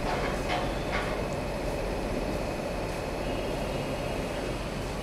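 Train rumbling at Kolkata station, a steady loud low roar of rolling stock with faint higher squeals, continuous throughout with no voices.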